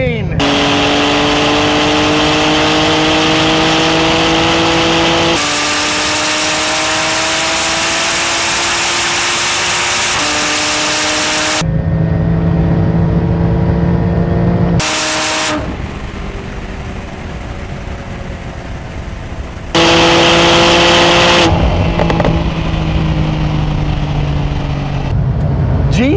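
A Porsche 911 Turbo S and a GT2RS on 22-inch wheels launch in a drag race, engines roaring loud and near with rising gear pulls that cut off and restart in several long runs.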